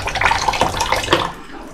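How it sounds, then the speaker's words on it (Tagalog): Water from a house tap running weakly, a close splashing, trickling flow with uneven spatters that eases toward the end. "may tulo na."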